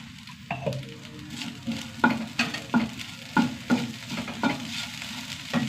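Okra with salt sautéing in a pan, a steady sizzle under repeated scraping stir strokes that land roughly every half second, close and clear with no talking.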